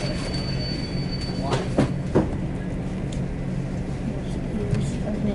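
Train 8775 passing on the rails, a steady rumbling roll with a few squeals and clacks, moderately loud and close, while people talk over it.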